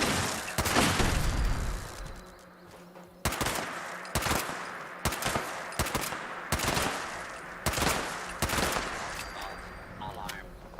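Gunfire in Fallout 76 at a Halloween Fasnacht event: loud bursts of automatic shots repeating every second or so over a steady game soundscape, with a voice talking in between.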